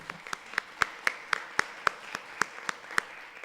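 Sparse, rhythmic clapping from a small audience at a talk on neurodivergence, about a dozen distinct claps evenly spaced over a quiet room.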